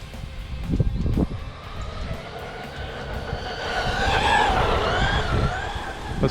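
An Arrma Granite 4x4 3S BLX brushless RC monster truck runs at full throttle outdoors. Its electric motor whine rises and holds steadily over rough wind and ground rumble, with no one talking.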